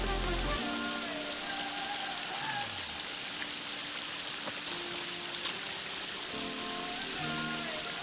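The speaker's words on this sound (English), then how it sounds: "I love the rain." Rain falls steadily on surfaces in Northern Cascades National Park, a constant broadband hiss with a few faint tonal sounds mixed in underneath.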